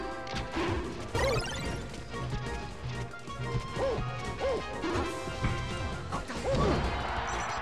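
A fighting game match in Super Smash Bros. Melee, with sharp whacking hit impacts and crashes over busy game sounds and music, several punchy strikes spread across the stretch.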